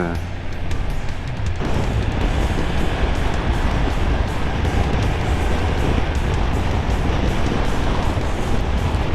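A BMW F900XR motorcycle ridden at about 5,000–6,000 rpm in a tall gear gives a loud, steady engine drone mixed with heavy rushing wind noise, continuous throughout.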